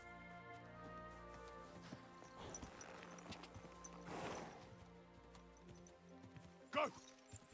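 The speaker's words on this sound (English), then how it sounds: "Horsey." Horse hooves clip-clop at a steady walking rhythm in the medieval game Kingdom Come Deliverance 2, soft and fairly close, with other game sounds and a louder burst near the end.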